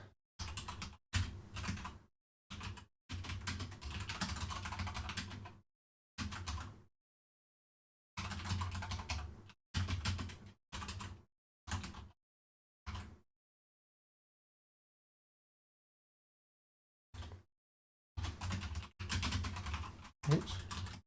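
Someone types code on a computer keyboard in quick bursts of clicky keystrokes, close and fairly quiet, broken by several long silent pauses before the typing picks up again.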